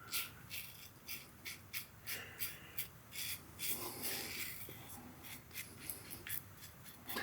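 Aluminum TRC safety razor drawn across the grain on a second pass, giving short, repeated scraping strokes in an uneven rhythm, close and fairly quiet with no talking.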